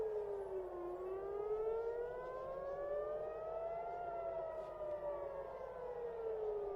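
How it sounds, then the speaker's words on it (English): Civil defense air raid sirens wail just before an attack. A steady, distant tone rises and falls slowly and carries on without a break for the whole stretch, with no voices. "we were able to hear the air sirens, which were being sounded right before the attack in this clip"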